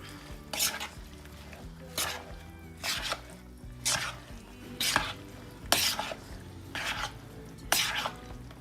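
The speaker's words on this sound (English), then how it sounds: "I'm gonna stir that up" Cheddar cheese being stirred into a dish with a spoon, about eight regular scraping strokes spaced roughly a second apart, fairly close, with no talking.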